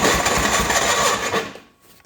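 A John Deere 420 gasoline tractor engine cranking hard on a cold start gives a rapid mechanical chugging that runs about a second and a half, then cuts off into near quiet.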